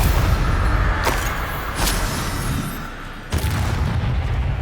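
A Confringo blasting spell goes off in the Hogwarts Legacy video game, with booming blasts over a dense, rumbling game soundscape, sharp hits near 1 and 3.3 seconds and a fainter one around 1.8 seconds.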